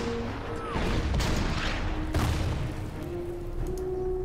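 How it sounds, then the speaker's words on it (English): Artillery in the Order of Battle strategy video game fires a few loud booming shots, with rumbling impacts and steady game sounds underneath. "Artillery, hit that."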